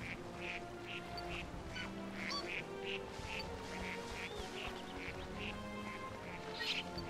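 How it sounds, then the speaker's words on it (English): A duck in Pokemon Sword quacks in a steady series of short nasal calls, moderately loud over a continuous game soundtrack, with no talking. "Let's get a better picture of that duck."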